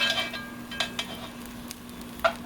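A spoon stirs and scrapes through food in a cooking pot for a pork chop stew, a few soft clinks and scrapes over a low steady hum, close and fairly quiet.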